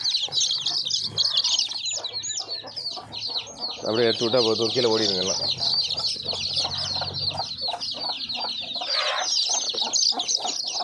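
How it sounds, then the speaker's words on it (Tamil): Dense, constant high chirping from many chicks fills a poultry farm, with occasional lower hen clucks and a brief flutter, while someone speaks in Tamil over the steady din. "எல்லா குஞ்சுகளும் மேலே இருந்து கத்திக்கிட்டு இருக்குது"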